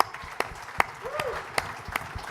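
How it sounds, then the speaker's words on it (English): A small audience at a carbon tax panel forum applauds, though only a few sparse, sharp claps stand out at an uneven pace beneath quiet voices. "Let's get a round of applause for Gap."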